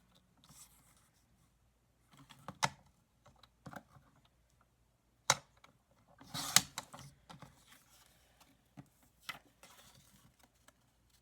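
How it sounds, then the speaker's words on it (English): Paper card being trimmed along its sides, sparse quiet taps, clicks and short slicing sounds with gaps between them, close and faint, no talking. "I'm just going to slice off a little bit off of each of the sides of this card"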